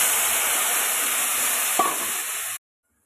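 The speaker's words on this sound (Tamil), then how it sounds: "புளியை ஊற்றிக்கிறோம்." Tamarind extract poured into a hot pan for puliyodharai gives a loud, steady sizzling hiss lasting about two and a half seconds, then stopping abruptly, with one brief splash or stir sound near the end.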